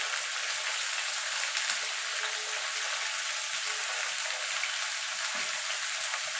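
Mixed vegetables with salt frying in a pan, a steady, bright sizzle with faint stirring scrapes underneath, continuous and close with no voices.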